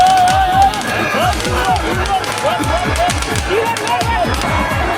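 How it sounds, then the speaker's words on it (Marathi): A huge crowd fills the Raibadevi yatra festival in Maharashtra, a loud, dense, continuous roar of people with a steady pounding rhythm underneath and a voice talking over it. "तुफान गर्दी असताना तुफान गर्दी."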